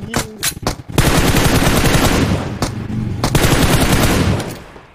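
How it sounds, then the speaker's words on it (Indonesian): Sustained automatic gunfire from a classic-mode shooter video game, loud and continuous after a few opening shots, with rapid bursts running for several seconds and fading slightly at the end. "Tembak tak berhenti."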